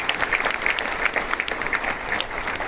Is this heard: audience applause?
yes